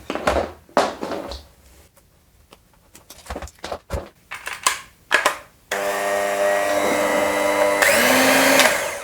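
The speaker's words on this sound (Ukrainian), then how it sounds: "Дуже тихий міксер." Scattered clicks and knocks, then a Gorenje M500DCBK electric hand mixer whirs steadily and fairly loudly, its motor pitch shifting briefly near the end.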